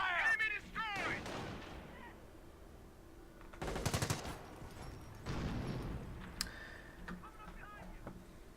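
Machine guns fire in a video game as several bursts of rapid rattling shots at moderate distance, with quieter gunfire and game sounds between them and some talk mixed in.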